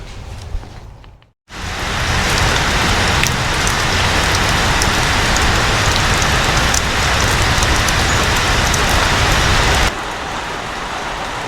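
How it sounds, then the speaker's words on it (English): Heavy rain pours steadily as a dense, hissing wash onto a GMC Suburban during paint prep, starting abruptly after a brief quiet moment and continuing loud and unbroken. "Rain."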